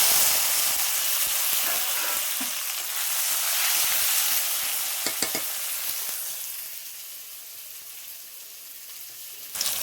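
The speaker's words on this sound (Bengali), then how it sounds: "দেখো বন্ধুরা, পেঁয়াজ টমেটোটা আমার ভাজা হয়ে গেছে," Onion and tomato fry in oil in a pan, a continuous close sizzle with bursts of hiss and a few scraping stirs, gradually easing toward the end.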